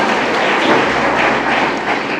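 Audience applause for a vice principal at a youth event in Maharajganj, a thick, sustained wash of clapping from a large crowd, loud and steady throughout with no voices over it.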